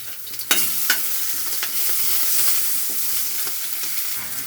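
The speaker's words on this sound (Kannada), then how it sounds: "ಹಸಿಮೆಣಸಿನ್ಕಾಯಿ ಕರಿಬೇವು ಸ್ವಲ್ಪ ಎಣ್ಣೆಯಲ್ಲಿ ಫ್ರೈ ಆಗಬೇಕು ಶುಂಠಿ ಹಾಕೊಳ್ಳಿ" Green chilies, curry leaves and ginger fry in a little oil, giving a steady close hiss and sizzle broken by a few light scraping stirs.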